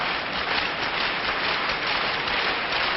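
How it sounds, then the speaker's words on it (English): A crowd in the Jakob Hall arena at the 2012 World Curling Championships makes a steady wash of clapping and crowd noise, continuous and even throughout. "So the crowd beginning to make a bit of noise here in the Jakob Halla."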